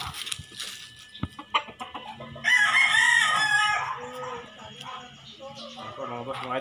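A Sweater Hennie crossbred rooster lets out one loud, close crow in the middle, with scattered clucks and thumps around it, a dog barking faintly and speech nearby.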